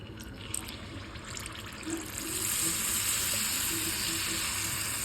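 Oil and ghee heating in a paniyaram pan for nei appam give a soft, steady hiss that grows slightly louder partway through, faint and continuous with no voices.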